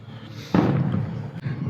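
A single firework bursts at Disney World near Fort Wilderness, a distant thump that rolls into a rumbling, crackling tail and fades over about a second.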